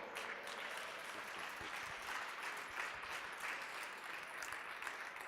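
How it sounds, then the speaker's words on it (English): Sustained audience applause at the Torino Film Festival awards event, a dense, even wash of many hands clapping at once with no pauses. "Please welcome him with a great applause."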